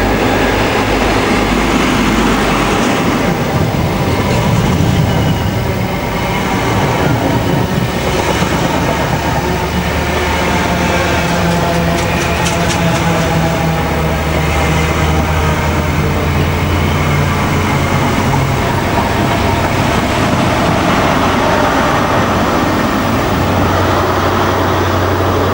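A train rolls steadily past on the railway near Newport, a loud continuous rumble of engine and wheels with faint rail clatter, holding strong throughout with no voices.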